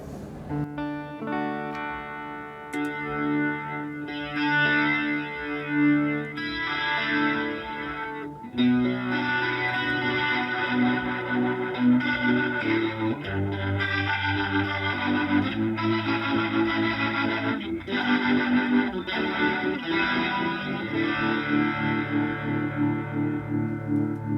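Electric guitar played through an Electro-Harmonix Lester G pedal with its built-in compressor engaged, giving a swirling, rotary-style effected tone; sustained chords and notes ring out continuously and loudly, with no talking over the playing.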